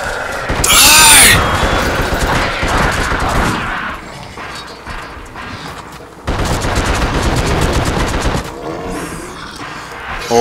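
Rapid bursts of Tommy gun fire in the horror action game The Suffering, loud and close, in sustained volleys broken by a brief pause and a short crashing impact near the start.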